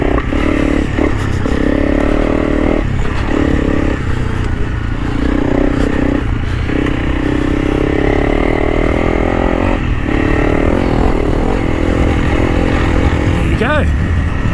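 A Honda CRF300 Rally motorcycle engine drones steadily and loudly while being ridden, with rising and falling revs through a long continuous stretch and some clattering at close range.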